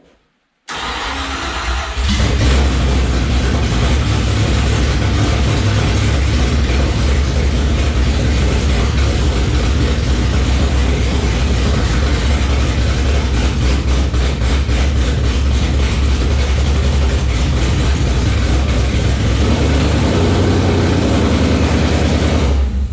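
An engine fired up for the first time since October 2019 after coolant and power steering work, starting with a brief crank then settling into a loud, steady, rumbling idle that runs on unbroken close by.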